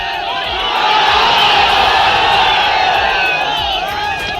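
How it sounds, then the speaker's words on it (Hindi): Large crowd at a political rally in Siwan, Bihar, shouting and cheering in a steady, loud roar that swells and holds for several seconds, with whoops rising over the din. "सिवान में जिस समय भीड़ ने तेजस्वी के लिए शोर किया"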